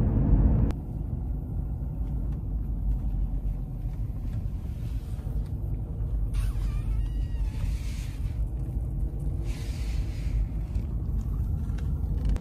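A car driving on the road, heard from inside as a constant low rumble and engine drone at moderate level that runs steadily for over twelve seconds, with a few faint higher squeaks partway through and no one speaking.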